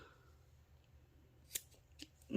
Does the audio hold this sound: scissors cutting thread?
yes